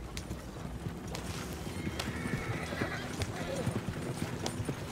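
Horse hooves clip-clopping steadily in Red Dead Redemption 2 while riding with a group of riders, a rapid continuous gait close up, with occasional voices and a neigh over the trotting.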